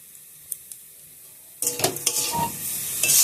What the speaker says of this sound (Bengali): অত নাড়াচাড়া করে দিই, না হয়তো পুড়ে যাবে।